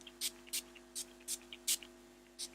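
Banana-scented setting spray misted in about seven quick, soft hissing bursts, spaced unevenly and heard close up against a steady low electrical hum.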